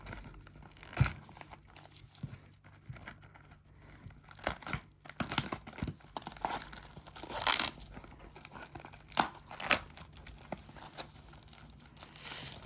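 Plastic wrapping is torn and crinkled off a French Bataille de légende: Vengeance Cristal trading card display box, with irregular rustling and sharp ripping bursts spread over several seconds, close up and with no voices.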